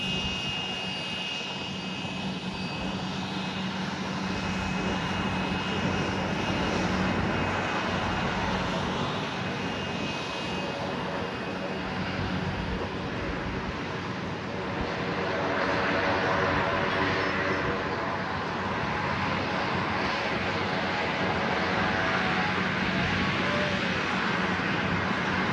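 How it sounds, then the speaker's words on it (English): An Embraer 145 regional jet taxis toward the runway at an airport, its turbofan engines producing a steady, loud whine and roar that holds throughout with slight swells, heard from a moderate distance with no talking. "3206 heading to St. Martin on the Embraer 145. Now taxiing via Sierra for a north side departure at runway 8."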